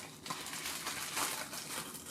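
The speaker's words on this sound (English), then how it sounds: "We have the bubble wrap" Bubble wrap packing from a Versace card case box being handled, a steady crinkling and crackling rustle close by, continuous for a couple of seconds with no talking.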